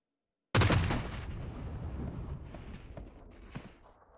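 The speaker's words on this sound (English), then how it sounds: "So they've seen the explosion now." A sudden loud explosion goes off in a battle royale video game, a sharp blast followed by a long rumbling decay with scattered crackles and one smaller pop near the end, with no talk over it.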